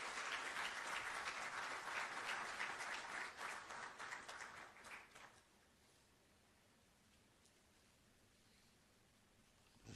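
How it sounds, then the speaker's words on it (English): A ceremony audience in Ghana applauds to welcome the Chief Justice, with dense clapping for about five seconds that thins and fades, leaving quiet room tone. "Shall we please welcome him with an applause,"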